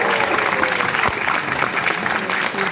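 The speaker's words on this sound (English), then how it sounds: "Is there a louder applause than Team C with 80 points?" Audience applause for Team C at a medicine quiz held at St Andrews: steady, dense clapping from a crowd fills the room throughout, loud and close, with no pauses.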